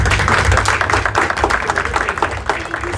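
A room full of people claps together at a lighting session in a DJ academy demo room, a dense and steady wash of hands that stays fairly loud for about three seconds, with voices mixed faintly underneath.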